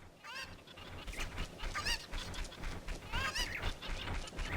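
Chicken clucks and squawks from the video game Zelda: Ocarina of Time, a string of loud, honking bird calls that repeat over steady background game sound, with no talking.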